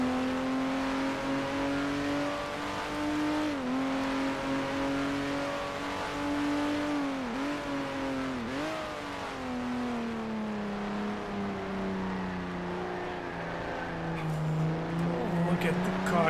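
A race car engine in a racing video game at Monza in its 1976 layout drones loudly and continuously, its pitch dipping briefly a few times before settling lower toward the end.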